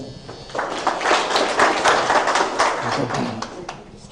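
Audience applause at a barber training event, a dense steady burst of many hands clapping, fairly loud and close, swelling and then tapering off over several seconds with no talk over it.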